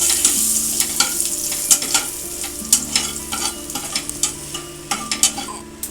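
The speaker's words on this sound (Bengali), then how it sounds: "এবার আমি ওই তেলেই দিয়ে দিচ্ছি গোটা জিরে, একটা লঙ্কা, শুকনো লঙ্কা, একটা তেজপাতা" Whole cumin, dried chilli, bay leaf and grated ginger sizzle and crackle steadily in hot oil, with a spoon stirring and scraping the pan in irregular taps throughout.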